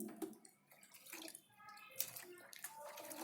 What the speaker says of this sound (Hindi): तो मैं मग्गे से पानी ले रही हूँ